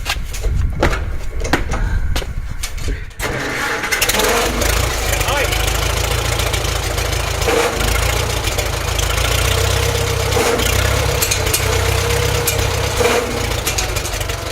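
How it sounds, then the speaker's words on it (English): A Farmall M tractor engine starts and settles into a steady, loud idle with a low rumbling throb, a few knocks and clatters sounding nearby. "That's a Farmall M engine."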